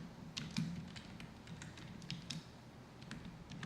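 Typing on a computer keyboard, a steady run of light key clicks with brief pauses at close range, over a low background hum.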